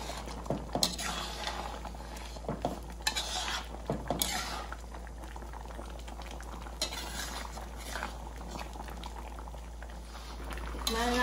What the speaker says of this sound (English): Yeah, it's boiling.